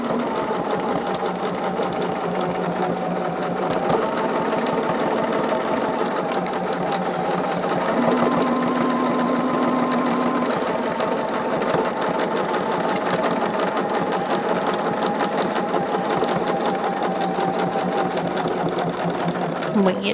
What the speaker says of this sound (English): do a top stitch on there to tack down that